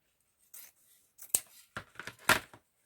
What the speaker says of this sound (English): because this is a little bit thicker and it is a wired ribbon, I'm going to cut the two sections separately